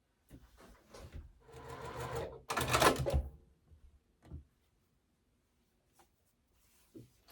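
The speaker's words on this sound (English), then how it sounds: "I'm going to go ahead and sew this onto the end with the background on the towards the outside" A sewing machine stitches quilt pumpkin block pieces with a short close whirring run, a louder burst, then stops, leaving a few faint clicks and handling noises in near silence.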